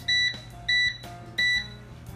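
A kitchen timer beeps three times in an even rhythm while almond macaroons bake, each electronic beep bright and clear over a low steady hum.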